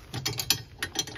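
Ratchet wrench firming up 7/16 seat mounting bolts during a seat and harness install on a 2020 Yamaha YXZ, giving a quick run of close, crisp clicking pawl strokes.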